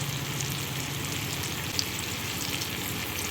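Chili powder and spices frying in oil in a pan for a Bengali fish curry, a steady soft sizzle with faint crackles, heard up close and alone.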